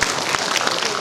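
Applause from an audience at an education consultation session in Malaysia, a steady dense patter of many hands clapping throughout, fairly loud and close.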